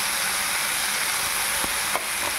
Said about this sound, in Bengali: দিয়ে চালটাও আমরা একটু ভাজা ভাজা করে নেব।